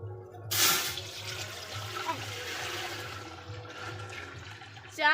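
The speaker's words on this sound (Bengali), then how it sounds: "জল দিয়ে দেব।" Water pours steadily into a cooking pot for khichuri, a broad rushing splash that starts abruptly and runs continuously at moderate loudness, with no talk over it.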